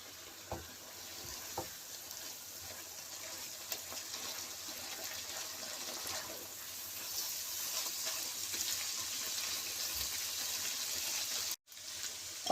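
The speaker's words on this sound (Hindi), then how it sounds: "अब भून लेते हैं।" Minced meat and potatoes sizzle steadily in a pan as they fry with cumin, garam masala and black pepper, a continuous close hiss with occasional stirring clanks, no voices.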